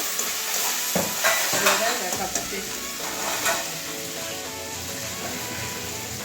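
Malabar spinach (pui shak) fries in a pan with a loud, continuous sizzle, punctuated by clattering stirring strokes and scrapes against the pan in the first few seconds, then a steady hiss.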